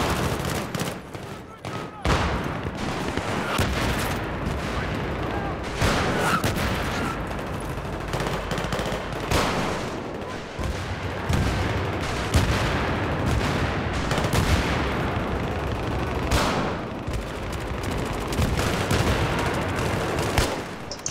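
Continuous gunfire in the video game Battlefield 3: rapid automatic bursts and single shots crack loudly and steadily throughout, with distant explosions and battlefield noise layered beneath.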